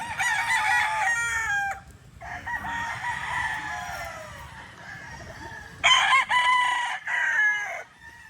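A rooster crows loudly and close, two long cock-a-doodle-doo calls broken by a gap of quieter clucking, with a low background hum underneath.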